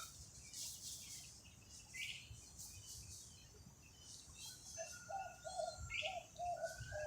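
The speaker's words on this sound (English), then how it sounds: "I am hearing birds" Soft bird chirps and tweets scattered outdoors, with a series of short cooing calls arriving toward the end, fairly faint against a quiet background.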